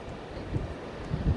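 Strong wind buffets the rocky Irish coast in low, gusty rumbles with a couple of heavier blasts, steady and close with no voices.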